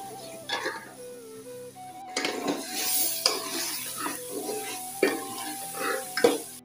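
Raw chicken goes into a pan of sizzling red chilli masala for chicken korma and is stirred, with a steady fry hiss broken by repeated scrapes and clinks of a metal spoon against the pan.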